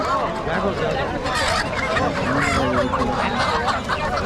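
Chickens at a market cluck and squawk in a dense, continuous chorus close by, with people talking over the birds.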